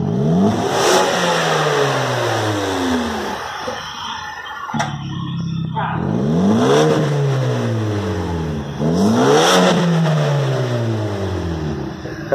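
A turbocharged 2016 Ford Fusion Titanium with an exhaust diffuser revving hard in repeated surges, pitch sweeping up and dropping back each time, loud and close with a brief lull between pulls.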